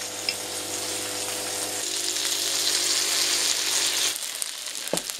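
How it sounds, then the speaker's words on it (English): Steady, crackling sizzle of pierogi frying in a hot pan with a little honey, fairly close, ending with a few clinks as the cooking quiets down. "I'm going to add a little bit of honey to the frying process"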